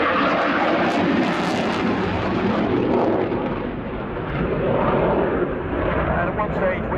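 A Royal Air Force Eurofighter Typhoon FGR4 jet flies an air show display at RIAT 2017, a loud, continuous broadband roar with a rushing, rumbling texture that swells and shifts slightly as the aircraft passes, with someone talking over it throughout.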